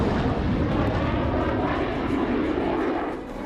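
Rafale multirole fighter jet in flight, a loud, steady engine roar holding throughout and easing slightly at the very end, with no talk.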